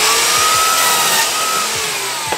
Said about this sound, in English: I'm gonna go to the miter saw, I'm gonna line it up so I can make my cut